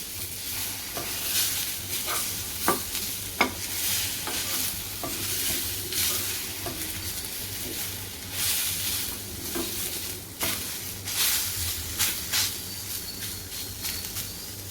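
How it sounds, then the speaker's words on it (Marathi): Tomatoes sautéing in a pan for a drumstick and potato curry, with steady sizzling and repeated scraping stirs of a spoon throughout, close and fairly loud, with no talking. "टोमॅटो पण परतून घ्यायचं आहे चांगलं"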